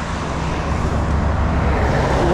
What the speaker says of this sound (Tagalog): Alakay ang ingay ng truck.